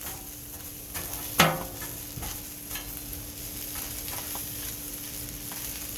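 Mushrooms and onions fry on a griddle for a mushroom and Swiss burger, a faint continuous sizzle punctuated by one sharp spatula scrape and a few lighter taps.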